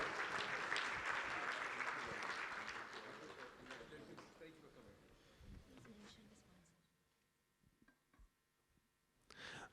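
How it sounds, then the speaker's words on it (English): Conference audience applause for a raffle winner rises strong at first and slowly fades to near silence, with scattered claps and faint voices at the end. "Please a stand of applause for our winner."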